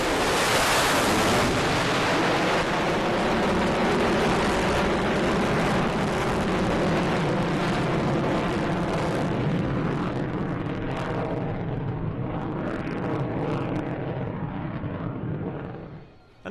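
An F-35C Navy fighter jet flies at an air show with a dense, roaring rush of engine noise that stays loud and continuous, mixed with wind buffeting, and then fades away at the very end.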